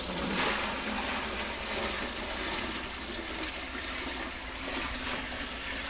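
Water poured out of a bucket holding plant aerial roots makes a continuous, fairly soft rushing splash that holds steady for several seconds, close by and without talk.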